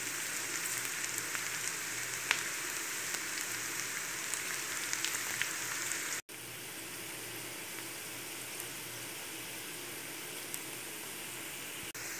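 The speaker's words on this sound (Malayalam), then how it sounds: "ഇപ്പോൾ ഉള്ളിയൊക്കെ മൂത്ത് വന്നിട്ടുണ്ട്." Onions, dried red chillies and curry leaves fry in hot oil, giving a steady, fine crackling sizzle that runs on evenly with small pops, heard on its own without talk.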